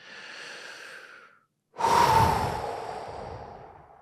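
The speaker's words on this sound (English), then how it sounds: "Nice big deep breath." A big, deep breath taken during a calming tapping exercise: a softer inhale, a brief pause, then a loud, full, breathy exhale that trails off slowly, close and alone with no talk.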